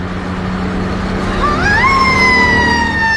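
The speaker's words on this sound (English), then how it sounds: "The screaming motorcycle escort that takes him everywhere he goes" A siren rises and holds a steady high wail over a loud roar of engines and traffic from the prime minister's motorcycle escort in Zimbabwe. The siren and engines sound close and continuous, with no talking.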